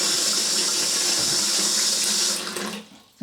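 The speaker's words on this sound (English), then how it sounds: "So all the time whilst the cistern's filling," Water rushing steadily into a close-coupled toilet cistern as it refills, a loud continuous hiss that tapers off near the end and then briefly surges again.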